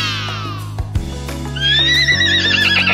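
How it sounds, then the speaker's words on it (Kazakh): A horse whinnies loudly in a domestic farm-animal sound lesson for children: a falling, quavering neigh opens the clip, then a second shrill, rising whinny sustains near and clear to the end, with no talk. "Жылқы."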